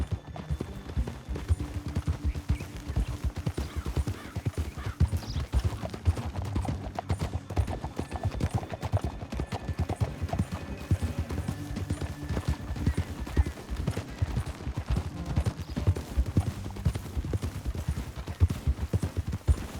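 Rapid clip-clop of horse hooves galloping steadily over ground for a long stretch in Red Dead Redemption 2, with faint rumbling and occasional distant pops underneath.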